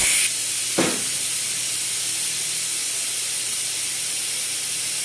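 A pot of onion, chili, garlic and salt in water at a steady boil, giving a constant broad steamy hiss throughout, with a brief soft knock near the start.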